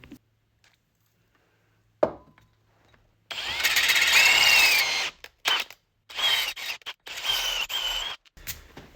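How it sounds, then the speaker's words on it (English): Power drill boring out a hole to 7mm in a Hayter lawnmower friction plate part, a sustained loud whine for about two seconds, then several shorter bursts with brief pauses, after a single sharp knock. "So I'm going to drill it out to 7mm."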